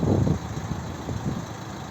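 A 2011 Renault Megane III with a 1.5 dCi diesel engine and automatic gearbox idles steadily and quietly, a low, even rumble close by with no other sounds.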